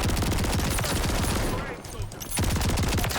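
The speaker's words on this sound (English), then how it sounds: "I almost feel bad for pulling this shotgun out, but not really" Rapid, loud, continuous shotgun fire in a Call of Duty match, with a dense burst of blasts, a short lull in the middle, then more heavy firing close up.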